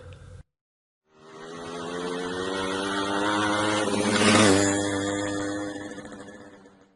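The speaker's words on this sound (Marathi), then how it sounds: "मोटरसायकल." A motorcycle approaches, roars loudly as it passes close by, then fades away into the distance.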